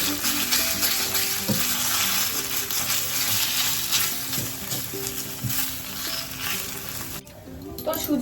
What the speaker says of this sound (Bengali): আমি এই ভেজানো সাবু সুজিটা দিয়ে দেবো দিয়ে একটু ভাজবো